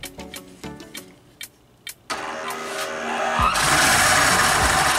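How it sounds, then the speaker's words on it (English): Small electric motor of a WLToys 144001 RC truck revving under load as it accelerates with wheels held from turning, starting with faint clicks and whirs then swelling into a loud, sustained straining whine. "I'm just going to accelerate, and tires should turn, but they're not going to, so check it out."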